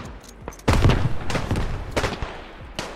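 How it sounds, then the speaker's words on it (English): Grenade blast and rifle gunfire in a World War 1 video game: a sudden loud burst followed by several sharp, rapid shots and crackling reports, close and busy, with no talk. "He dropped a grenade."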